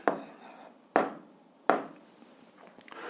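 A pen writes an answer to a school physics exercise, giving three distinct scratchy strokes that each start sharply and trail off, close and quiet, with no voice.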